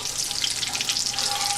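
Cheese wedges frying in a pan on medium heat, giving a continuous bright hiss and crackle, close and steady for a brief moment.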